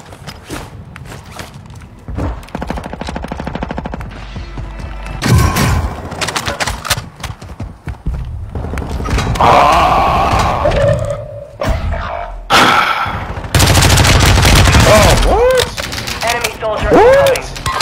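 Gunfire strikes the player in a first-person shooter game, with bursts of shots and impacts coming in irregular clusters, loud and close, mixed with in-game effects and a voice talking over parts of it.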